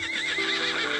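A horse in the video game Star Stable gives a loud, quavering whinny that fills the whole moment, close and clear.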